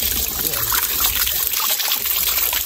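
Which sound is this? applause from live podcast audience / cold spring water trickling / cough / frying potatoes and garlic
cold spring water trickling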